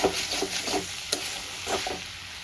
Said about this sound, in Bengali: আমি নেড়ে দেবো যেন নিচে না লেগে যায়